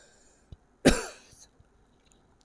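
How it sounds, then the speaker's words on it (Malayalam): A single harsh cough from an irritated throat, close by, trailing off into quiet with a few faint knocks around it. "ചുമയാണ് കേട്ടോ തൊണ്ടയ്ക്ക് ചെറിയൊരു പ്രശ്നമുണ്ട്"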